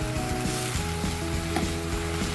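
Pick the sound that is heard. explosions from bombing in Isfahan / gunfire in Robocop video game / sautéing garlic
sautéing garlic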